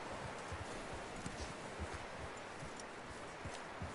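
Horse hooves clip-clop at a steady walking pace in the video game Red Dead Redemption 2, over a constant rushing, rustling background of wind and foliage.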